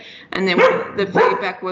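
A pet dog barks a few short, close, loud yaps indoors while a person is partway through speaking.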